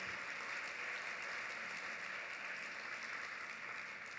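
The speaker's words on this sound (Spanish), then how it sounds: "quiero que iniciemos dándonos un fuerte aplauso por ese esfuerzo que están haciendo" Distant, faint applause from a school audience at a talk on creativity and entrepreneurship, an even, hissing wash of clapping that holds steady without voices.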